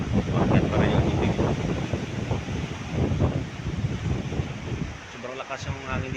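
Strong, continuous typhoon wind buffets a coastline during a storm surge, roaring and gusting close to the microphone with waves churning in the background; a voice is faintly mixed in near the end.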